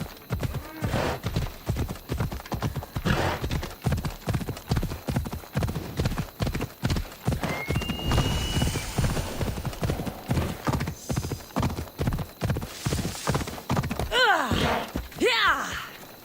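Horse hooves clip-clop steadily at a fast gait in Assassin's Creed Odyssey, a continuous rhythmic pounding with a brief whinny near the end. Game effects sit underneath, and no one talks.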